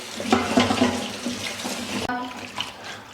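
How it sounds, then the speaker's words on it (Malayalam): Small cut pieces of tender jackfruit washed under running water in a pan, a steady close splashing flow with light sloshing and handling, ending in a brief pause and a few final splashes. "ഇതിനൊന്ന് കഴുകി വേവിക്കാനായിട്ട് വെക്കാം"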